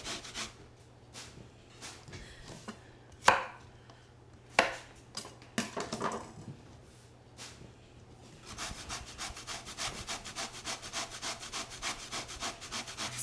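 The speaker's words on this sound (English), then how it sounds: "we've grated up all of our sweet potatoes" Sweet potatoes grated by hand in a home kitchen, a dry rhythmic rasping that comes in scattered strokes with a few sharp knocks, then settles into a steady, fast scraping run near the end.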